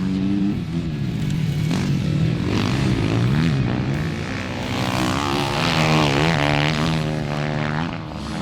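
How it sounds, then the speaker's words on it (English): Kove MX 450 motocross bike lapping a track, its engine revving up and down continuously with shifting pitch as it accelerates and works through gears, loud and close throughout. "on the Kove MX 450, it did not take long for Sean to get up to speed"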